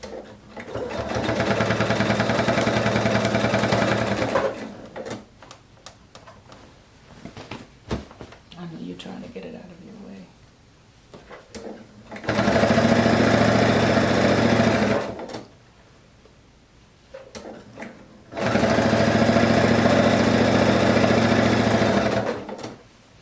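A sewing machine stitching down a quilt's binding edge runs in three loud, steady bursts of rapid whirring, with quiet pauses between them where someone talks.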